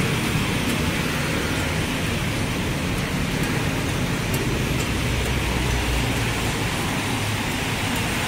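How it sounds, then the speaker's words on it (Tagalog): Steady rain falls during an outdoor walk under an umbrella, a loud, unbroken hiss of drops filling the whole stretch with no talking. "Maulan guys, kaya payong-payong lang muna ako."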